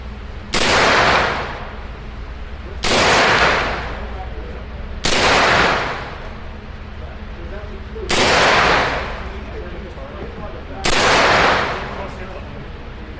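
Five sharp gunshots from an Aero Precision EPC 9 pistol-caliber carbine at a shooting range, loud and close, spaced about two to three seconds apart, each with a ringing decay.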